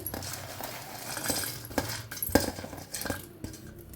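Roasted chickpeas and peanuts tumble into a mixer jar with a quick series of light, dry clinks and rattles close by, scattered over a few seconds with no talking.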